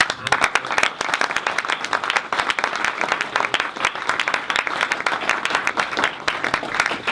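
Sustained applause from a conference audience, dense and steady clapping throughout at an even, fairly loud level.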